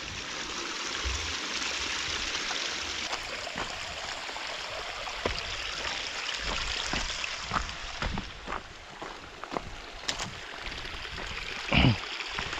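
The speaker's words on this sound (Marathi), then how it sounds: "पाट्याचा पाण्याचा आवाज बघा।" Steady rushing of water flowing through a channel, continuous and close, with a few faint clicks and knocks near the end.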